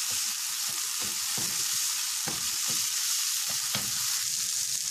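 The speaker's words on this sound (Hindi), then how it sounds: "अब मैं इसके अंदर ये तंदूरी मसाला डालूंगी और ये सारे मसाले इसके अंदर शामिल कर दूंगी। मज़ीद इसको 1 मिनट भूनूंगी।" Tandoori masala and mixed spices fry in a pan with a constant bright sizzle, broken by a few soft scraping stirs, close and alone without any talking.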